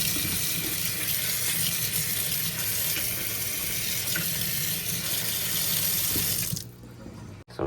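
Steady hiss of tap water running and splashing into a sink as something is rinsed off, continuous and fairly loud, cutting off abruptly near the end.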